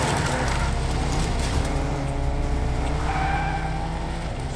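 A car engine in the video game Fortnite roaring steadily with tire noise and a brief squeal, continuous and loud.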